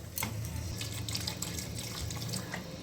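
Water poured into a pan of fried, previously boiled potatoes cooked in masala, a steady close trickle and splash running continuously throughout.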